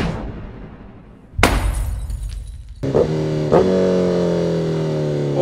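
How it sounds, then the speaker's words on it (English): A motorcycle engine revving and downshifting at speed: a sharp crack and rising roar, then a steady high, tonal engine whine that swells and holds, loud and close. "The sound of the downshift on this bike, guys, is incredible."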